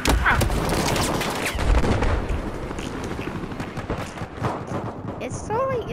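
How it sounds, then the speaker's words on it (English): Rapid gunfire bursts and explosions from the video game Battlefield 4, loud and dense throughout with a player talking over the shooting. "Oh, I'm freaking getting shot at!"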